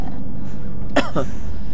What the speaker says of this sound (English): A bit of a dry cough there, from the night heater.